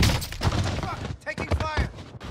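Bursts of gunfire crackle through a Call of Duty: Modern Warfare match, rapid shots arriving in clusters with voices talking over the action.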